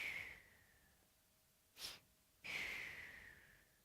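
A voice imitates a sleeping baby's rhythmic breathing: two long, airy breaths rise and fade, with a short sniff-like puff between them. The sound is close and quiet, with no speech.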